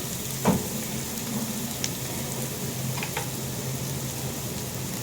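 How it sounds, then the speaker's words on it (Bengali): Onions frying in a pan with turmeric and salt, a steady close sizzle that runs throughout, with a few soft stirring scrapes and clicks. "তো এখন আমি ওই পেঁয়াজগুলা ভেজে নিতেছি"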